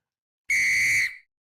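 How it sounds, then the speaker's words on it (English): A pre-recorded referee-style whistle gives one short, loud, shrill blast of under a second, alone against silence. "Is that what my whistle sounds like"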